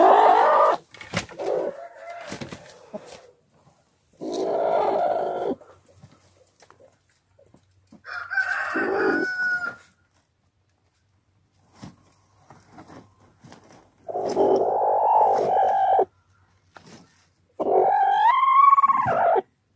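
A broody free-range hen sitting on a clutch of eggs gives loud, drawn-out clucking and growling calls in several separate bursts with quiet gaps between them, close by.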